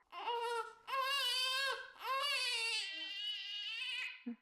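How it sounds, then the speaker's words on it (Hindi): A baby's loud wailing cries in long drawn-out bursts, close and clear, fading into softer whimpers toward the end. "मम्मी ये बच्चे की रोने की आवाज कहाँ से आ रही?"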